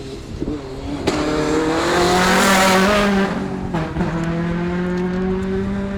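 A Suzuki Swift Sport rally car charges through a stage of the East Riding Stages Rally, its engine revving loudly and climbing through the gears close by, with a brief tyre squeal and no talk.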